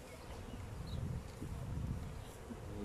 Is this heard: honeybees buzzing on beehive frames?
yes